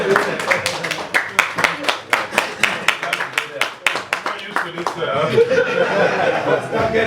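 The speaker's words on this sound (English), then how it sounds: "I would like us to please give Anthony a round of applause." Audience clapping for Anthony at an APCGMMB UK 2015 gathering, a few hands giving slow, separate, rhythmic claps that fade into chuckling and chatter as people talk over the end.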